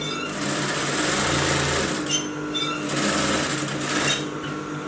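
Sewing machine stitching along a hem to even it out, running steadily and loudly for nearly the whole stretch with a continuous mechanical whir and brief changes in speed, no talking.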